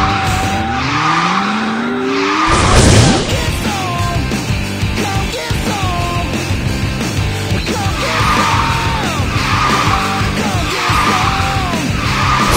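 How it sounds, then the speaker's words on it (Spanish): A car drifts through a turn in the mobile racing game Speed Drifters, with loud tire squeals and skidding sweeps, an engine revving, and repeated rising synthetic effects over game music. "Tu derrape fue increíble y te otorgó nitro"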